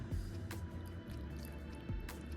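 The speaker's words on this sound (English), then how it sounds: "And I'm gonna mix it together, and then I'm gonna pour it in my pan." Macaroni and cheese sauce mixture being poured into a baking pan, with soft wet squishing and dripping splats in a steady, close run and no talking.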